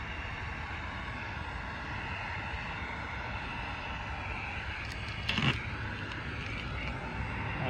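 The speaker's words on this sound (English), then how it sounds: "I'll keep the heat gun in front of where I'm pulling, heating that up to make it come off seamlessly." A heat gun blows steadily as vinyl stripes are warmed and peeled off a vehicle, a constant broadband airy roar running throughout with a brief louder burst near the end.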